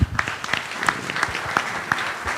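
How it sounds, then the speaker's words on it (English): Applause from the audience at a Rotary Club of Bombay gathering, a steady patter of many hands clapping close by for about two seconds, with no talk over it. "Let's give her a big round of applause"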